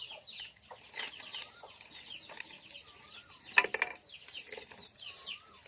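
Village chickens cluck and chirp faintly around a rural yard, scattered short calls with a few louder bursts and some wing flutter, no voices.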